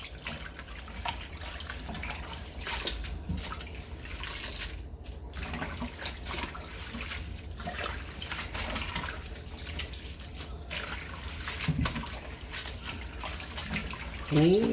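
Cold tap water runs steadily into a sink while collard greens and kale are washed, a continuous close rush with splashing and sloshing as the leaves are handled, and a brief voice near the end.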